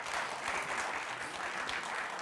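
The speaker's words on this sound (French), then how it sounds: "on peut vous applaudir" A studio audience on a French TV quiz show applauds steadily, dense clapping filling the whole moment at moderate volume.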